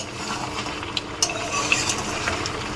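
Chicken sizzles and sputters in oil in a pan while being slowly sautéed dhaba style, with a steady close frying hiss, occasional spatters and faint utensil scrapes throughout.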